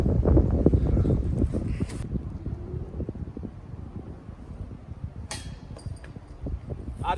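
Headwind gusting across an outdoor disc golf course, a rough, rumbling roar buffeting the microphone, loudest at the start and easing off, with short bursts of noise later.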